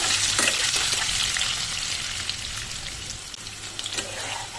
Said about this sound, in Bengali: তেল গরম হয়ে গেছে, এর মধ্যে আমি আলুগুলো দিয়ে দেবো।